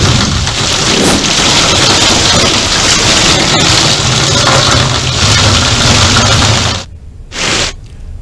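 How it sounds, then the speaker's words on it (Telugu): Heavy rain driven by gusty wind, a loud dense roar of downpour on surfaces that holds steady for several seconds before dropping off abruptly near the end. "కొన్ని చోట్ల 30 నుంచి 40 కిలోమీటర్ల వేగంతో ఈదురుగాలితో కూడిన భారీ వర్షం కురిసింది"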